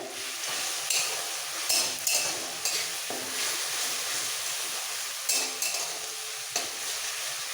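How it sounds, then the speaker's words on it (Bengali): Green chili paste sizzles in a pan while a spoon stirs it in regular strokes, producing a constant close frying hiss punctuated by soft scraping taps. "পাঁচটা কাঁচা লঙ্কা বাটা ঝালটা একটু ভেজে দিতে হবে"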